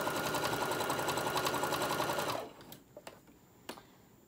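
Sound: sewing machine stitching fabric

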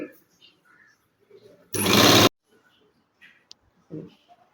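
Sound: sewing machine stitching cloth onto blouse lining

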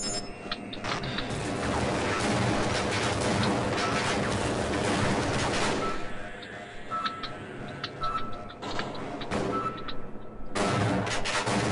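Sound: shotgun firing in Half-Life video game

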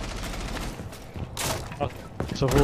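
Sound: gunfire in video game

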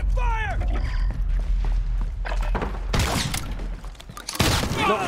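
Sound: gunfire in video game Modern Warfare

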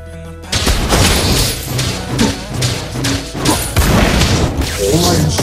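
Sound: turret destroyed explosion in a video game

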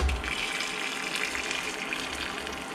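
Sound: liquid being poured into a mixing bowl

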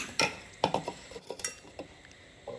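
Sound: handling a mixer grinder jar

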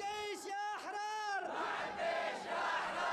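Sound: crowd of revolutionaries chanting

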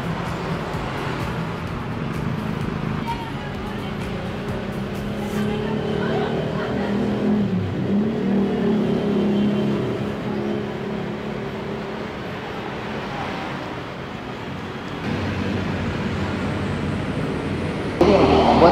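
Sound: modified motorcycle being ridden in busy traffic

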